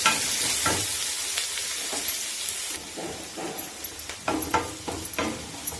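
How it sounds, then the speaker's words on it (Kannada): Onions fry in a pan with green chillies and curry leaves for a Mangalore-style fish curry. A loud, steady sizzle fades slightly partway through, and a spatula scrapes and knocks in irregular strokes against the pan. "ಈಗ ಈರುಳ್ಳಿ ಫ್ರೈ ಆಗಿದೆ"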